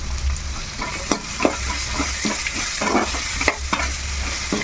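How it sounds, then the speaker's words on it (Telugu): Taro root pieces with turmeric and salt fry in a pan, giving a steady close sizzle broken by repeated scraping stirs, with no talking. "ఇప్పుడు బాగా మగ్గేదాకా మగ్గబెట్టుకోవాలి ఫ్రై చేసుకోవాలి"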